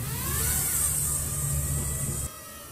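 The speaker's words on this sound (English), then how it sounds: "If you're familiar with the Tello, you'll notice when I launch here there's no overworking of the motors." The small motors of a Tello drone whine steadily after a hand launch, a close, even high-pitched buzz over a low hum that drops away abruptly near the end, with no talk.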